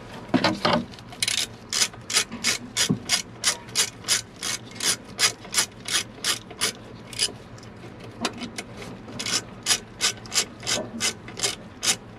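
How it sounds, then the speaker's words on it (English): A hand ratchet clicks in quick, steady bursts while loosening bracket bolts on a 1993 Ford F150 during a shift tube replacement, loud and close, with brief pauses between rows of strokes. "remove these two bolts for that bracket so we can get that loose"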